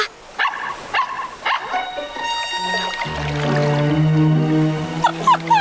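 A cartoon dog barks in a few short yips over a backdrop of music and sound effects, with sustained musical tones rising toward the end of the passage.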